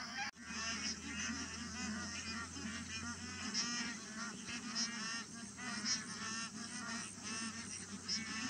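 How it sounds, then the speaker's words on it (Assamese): A very large flock of roughly two thousand ducks calls outdoors, a dense continuous chorus of overlapping honking and quacking that stays steady and close throughout, with a low hum underneath for the first few seconds. "বহুত হাঁহ আছে, হয়তো হাজাৰৰ ওপৰত হাঁহ আছে।"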